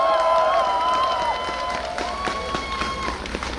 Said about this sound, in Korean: 뜨거운 박수 환영해 주십시오